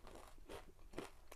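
Crisp crunching as kettle cooked potato chips seasoned with sea salt and cracked black pepper are bitten and chewed, a few quick close crunches, quiet, with no talking.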